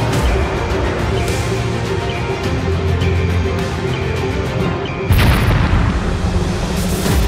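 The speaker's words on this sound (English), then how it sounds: "Here's a simulated aircraft launching missiles against live aircraft." Missiles launch from a simulated aircraft in a live-virtual military training exercise, a loud, sustained roar with a deep booming rush that surges again near the end.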